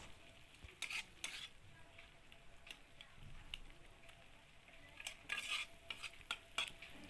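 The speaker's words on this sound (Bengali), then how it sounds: "এবারে আমি কাঁচা লঙ্কা কুচিটা দিয়ে দিলাম, খুব ভালো করে কষিয়ে নেব।" Chopped green chilies fry in masala in a pan, a quiet, low sizzle broken by scattered spatula scrapes and stirring knocks that come in short bursts.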